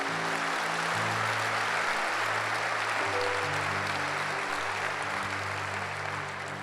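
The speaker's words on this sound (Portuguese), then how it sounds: "Por favor, dá um aplauso a Jesus." A church congregation claps through a Sunday service, a dense, even wash of applause with sustained keyboard or organ tones underneath.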